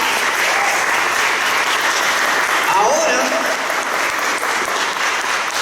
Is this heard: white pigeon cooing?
no